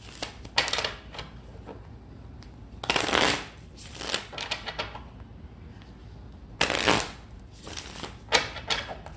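Tarot cards being shuffled by hand in bursts, with crisp riffling clatters that come in several loud spurts separated by brief pauses, close and with no talking.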